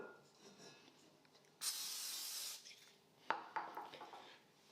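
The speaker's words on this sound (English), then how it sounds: "We'll spray our bowl." A single loud hiss of cooking spray lasting about a second, coating a mixing bowl for bread dough, followed by a clunk and some light knocking of the bowl nearby.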